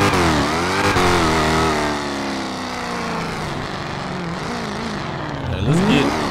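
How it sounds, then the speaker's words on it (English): A car engine in the video game GTA 5 revs and drones loudly, its pitch sweeping up and down through several throttle changes before climbing sharply at the end. "This engine just seemed loud."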